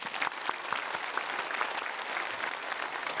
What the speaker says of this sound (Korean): 일어나서 인사하실 때 박수로 환영하겠습니다